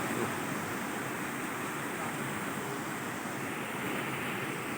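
Rushing water at Meenmutty waterfall in Wayanad, a steady dense roar with no breaks, heard from nearby and mixed with some wind.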